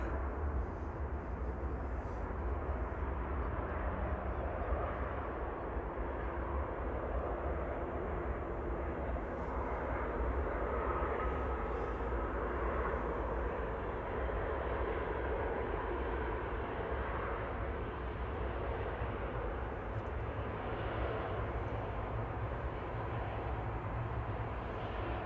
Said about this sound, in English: my Qatar tracking plane is about to land finally